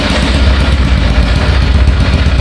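A Honda Biz motorcycle engine fitted in a Dafra Zig 50 idles close by, a steady low throbbing putter with a rough, even rhythm and no voices.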